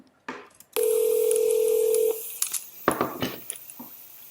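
A telephone dial tone on a recorded sales call sounds as a steady, loud, unbroken hum for a bit over a second, with clicks and handling noise on the line before and after it.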